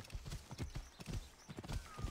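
Horse galloping in Assassin's Creed Origins, with rapid, rhythmic hoofbeats pounding in quick clusters throughout, moderately loud and close, with little else around them.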